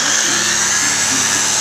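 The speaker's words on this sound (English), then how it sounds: "it's time to sand the primer for a nice smooth finish" Power sander smoothing dried primer on interior walls of a lightweight house on wheels, a continuous close, loud whirring grind without pause.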